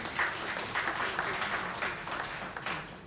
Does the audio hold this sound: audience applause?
yes